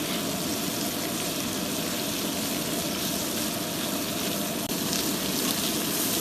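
Pork belly fries on an iron griddle in a home kitchen with a continuous, even sizzle and hiss of fat, steady and fairly soft, with no talk over it.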